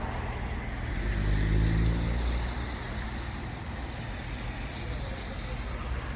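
Cars on a road moving in a convoy queue for a Sportsters motorcycle tour: a continuous low traffic rumble with one vehicle swelling louder as it passes close early on, then a steady background drone.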